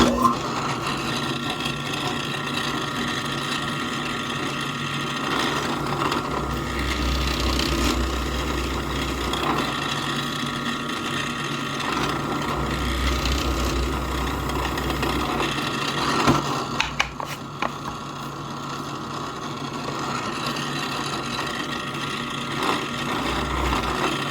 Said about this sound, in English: We're going to drill these holes for these gears right here.